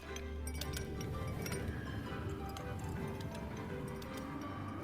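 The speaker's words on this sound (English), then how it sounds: "The Joy-Con can convey to you the feeling of ice cubes colliding in a cup" Scattered bright clinks of ice cubes knocking inside a glass come in quick irregular taps, soft and near, over a low steady background murmur.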